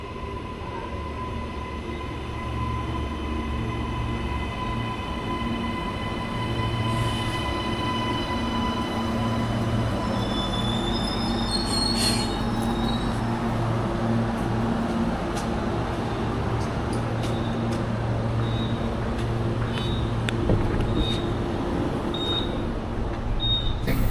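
A passenger train pulls into a station with a low rumble and rising wheel noise, brief squeals and tonal hums as it slows, loud and close throughout.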